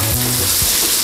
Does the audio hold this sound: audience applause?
no